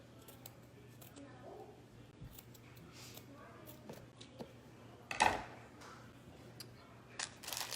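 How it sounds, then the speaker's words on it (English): Scissors snip ribbon scraps in a quiet room with a faint steady hum. Soft, sparse clicks and cuts are heard up close, with one louder crunch partway through. "I'm gonna cut this one up in the middle a little more so it's more skinny."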